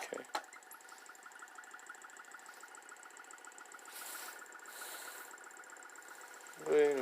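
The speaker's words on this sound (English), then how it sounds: "I'm gonna hook up this little motor again" A small electric motor running with a steady, faint hum and whine on a workbench, holding an even tone throughout before a louder low thump near the end.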